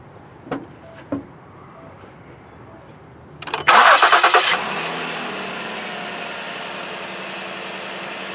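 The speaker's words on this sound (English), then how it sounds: "we're going to hit the crank, and I will crank this" A Ford Edge with a failing voltage regulator and charging problem cranks briefly and fires up, then settles into a steady idle, after a couple of faint clicks, with no talk.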